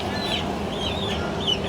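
Chickens at a lodging in Culebra, Puerto Rico make a few faint, scattered clucks over a steady outdoor background, with no talking.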